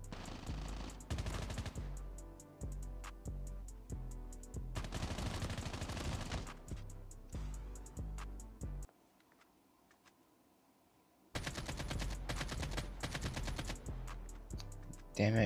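Rapid bursts of AK machine gun fire in the Call of Duty: Mobile video game, loud and close, arriving in several long volleys with a short quiet gap before the shooting resumes.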